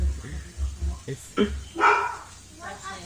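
A dog barks several times in short bursts early on, close and fairly loud, then people talk and laugh over the remaining moments.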